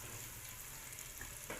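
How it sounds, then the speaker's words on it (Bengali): Onion and garlic frying in a pan of oil for khichuri, giving a steady soft sizzle that runs the whole time at low level, with a brief stir or clatter near the end. "পেঁয়াজ রসুন একটু ভাজা হয়ে গিয়েছে"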